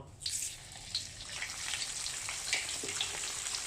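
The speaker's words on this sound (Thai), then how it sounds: "ตอนนี้น้ำมันก็ร้อนจัดขึ้นมาแล้วนะพี่บ่าว ก็จะใช้กระชจนแบบนี้รองลงไป แล้วก็เอาหมูวางส่วนหนังลงไปก่อน" Pork belly laid skin-side down in very hot oil gives a steady, bright sizzle and crackle that swells right after the meat goes in and keeps up unbroken at moderate loudness, with no talk over it.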